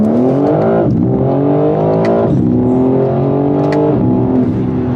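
A BMW M4 Competition (G82) exhaust revs steadily and loudly, the engine note rising in repeated pulls with brief dips between, close by and continuous.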